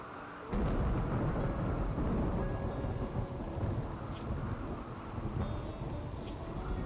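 Rainy thunderstorm in the Rimworld video game, with steady rain and wind holding throughout and low thunder rumbling beneath, no talk.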